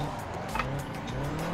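A Nissan S13 drifting on the ADC Lake Touge circuit with the handbrake pulled: a loud, sustained tire squeal over a steady engine roar, close by.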